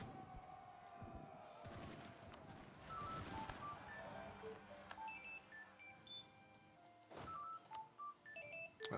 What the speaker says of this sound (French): Dès que je lance un live, le téléphone est obligé de sonner.